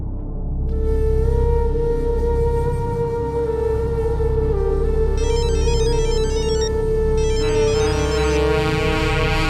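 An electronic phone ringtone plays continuously, a repeating melodic tone pattern with bursts of higher warbling notes over a low hum.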